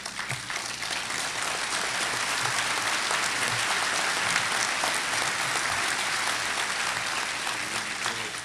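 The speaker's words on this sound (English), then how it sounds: "It's a well-deserving round of applause." Sustained, dense applause from a commencement ceremony audience, steady and even for the full stretch with no voices standing out.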